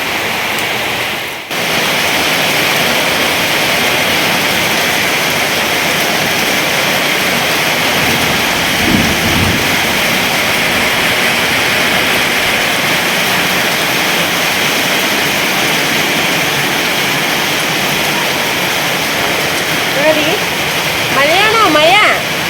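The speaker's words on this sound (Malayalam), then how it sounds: "നല്ല മഴ, വലിയ തകർപ്പ് മഴയല്ല, എന്നാലും നല്ല ശക്തി പെയ്യുന്നുണ്ട് കേട്ടോ" Heavy, steady rain pours down in a dense, loud, continuous hiss like a downpour on surfaces nearby, with a brief dip near the start and a voice faintly audible toward the end.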